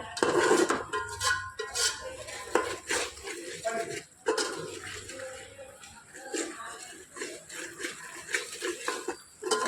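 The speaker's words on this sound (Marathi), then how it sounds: "बघा आपले छान मसाले तले जात आहेत" Spices sizzle and fry in a pan while being sautéed with chili powder, sesame and coconut, and a utensil clinks and scrapes against the metal at intervals, fairly close and busy, with no one talking.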